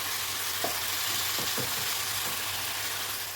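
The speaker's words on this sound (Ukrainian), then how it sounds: "Смажиться м'ясо" Meat frying in a pan on a home stove, a soft steady sizzle with a few brief scraping stirs, heard alone at low volume.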